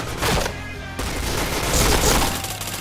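Rapid bursts of gunfire crack through a shooter video game, loud and close, with heavy rattling volleys and booming low-end impacts packed together over about three seconds.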